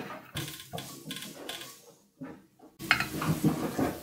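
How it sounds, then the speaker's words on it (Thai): Minced garlic, two or three cloves, stir-fried in a pan for a Korean gochujang instant-noodle dish: intermittent metallic scraping and clattering strokes, then a louder burst of sizzling and spatula clatter near the end, with no voices. "จากนั้นเดี๋ยวเรามาเตรียมผัดกันเลยค่ะกระเทียมสับประมาณสัก 2-3 กลีบค่ะ"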